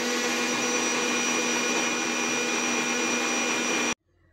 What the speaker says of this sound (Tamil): இப்போ இதில் 5 செகண்ட் வந்து நம்ம மிக்ஸியில் அடிச்சுக்கலாம்.